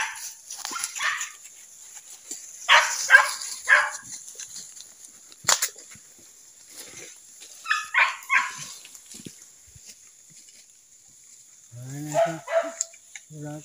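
A dog barks in short scattered bursts during a civet hunt outdoors, with sharper yelps and a whining note near the end, at moderate distance over quiet background.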